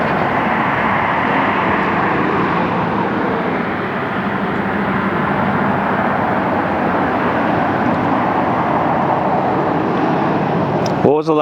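Jet airliner on a gusty crosswind landing approach in windy Las Vegas, a loud, steady broadband engine roar sustained close by, with a brief rattling burst at the very end.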